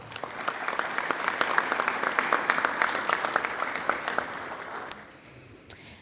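A business audience gives a sustained round of applause in an event hall, dense clapping that holds steady for several seconds before quickly dying away.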